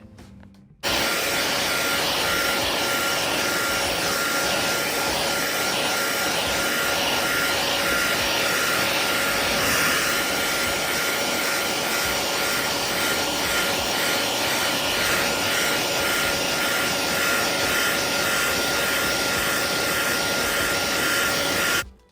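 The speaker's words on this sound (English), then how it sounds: "I usually take my blow dryer and just blow dry it" A blow dryer blasts continuously to dry homemade nail decal paper, a loud, steady roaring airflow that runs unbroken for about twenty seconds, then cuts off.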